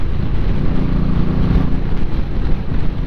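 A motorcycle is ridden through tight corners on twisty roads: a steady, loud engine drone mixed with buffeting wind noise, continuous and close, with no voices.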